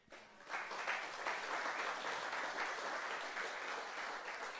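A church congregation applauding, a dense, steady wash of clapping from many hands that holds for several seconds at moderate distance.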